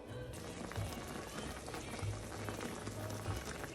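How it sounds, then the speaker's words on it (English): Pork chop sauce simmering in a pan, a steady dense bubbling and popping that runs continuously without pause, fairly close with no voices over it. "bring everything up to like a really good simmer"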